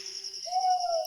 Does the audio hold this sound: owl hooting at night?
yes